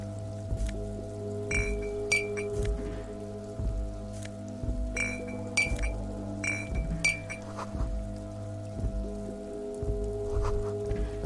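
Steady rain in Disco Elysium falling around empty bottles by a harbour warehouse, soft pattering drops with recurring bright clinks and a low sustained hum underneath, no speech.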